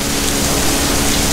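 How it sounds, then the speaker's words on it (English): Heavy rain pours down steadily at the Man Mo Temple in Hong Kong, a loud, dense, continuous hiss of water with no voices. "look at the rain here, it's just pouring down from the sky"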